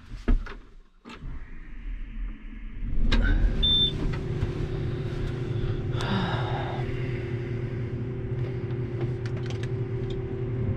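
John Deere 7710 tractor cranking slowly on a weak battery, a few sluggish starter turns before the engine catches and settles into a steady low running drone, recorded close with no talking.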